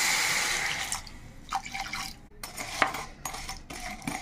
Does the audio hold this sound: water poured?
yes